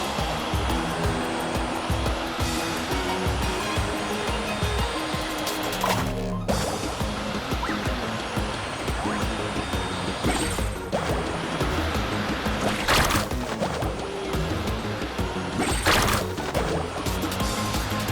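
Water rushes steadily while surfing across waves in the Genshin Impact video game, a loud unbroken wash with a few sharper splashes and swells throughout, and no voices.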